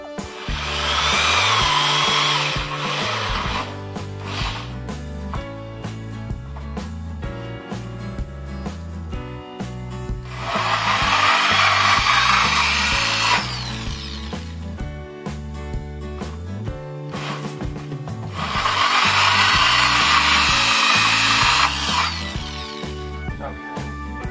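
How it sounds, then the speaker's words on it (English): A power drill whirs in three separate bursts, each a few seconds long, drilling a hole in a plastic bucket, over steady background music. "Drill the 2 1/4 hole in the bucket and a 2 1/8 inch hole in the liner."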